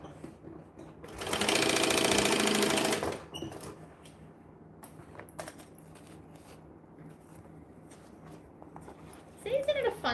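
A sewing machine back stitches a bag in a short, close burst of rapid mechanical whirring lasting a couple of seconds, followed by quiet with scattered small clicks and handling sounds.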